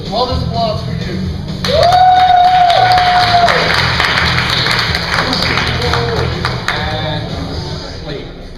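Crowd applause and cheering from an audience at a high school Project Graduation hypnosis show, a loud sustained wash of clapping with a whistle-like shout and voices mixed in throughout.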